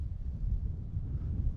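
Strong wind on a golf course buffets the microphone in a steady low rumble, alone with no voices.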